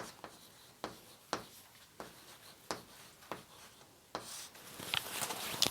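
Pen writing on paper during a math lesson: a series of quick, crisp scratching strokes at irregular intervals, close and fairly quiet, with busier scribbling toward the end.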